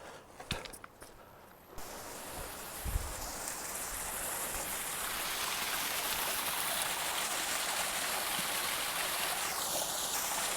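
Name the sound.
waterfalls and streams in North Cascades National Park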